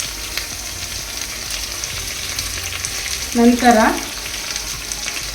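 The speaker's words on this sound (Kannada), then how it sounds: "ತದನಂತರ ತರಕಾರಿಗಳನ್ನು ಚೆನ್ನಾಗಿ ತುಪ್ಪ ಎಣ್ಣೆಯಲ್ಲಿ ಫ್ರೈ ಮಾಡಬೇಕು" Vegetables fry in ghee and oil in a pan for Mysore vegetable pulao, a steady close sizzle with a brief stir or clatter partway through, alongside a short spoken word.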